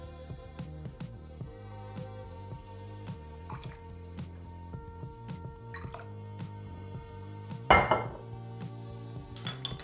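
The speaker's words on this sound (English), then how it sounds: "And a little bit of sake, 2 tablespoons of sake." Mirin and sake poured in small measures into a bowl while making a Coke-based yakiniku dipping sauce: quiet close drips and light trickles, scattered soft taps, and one sharper clink near the end, with no talking.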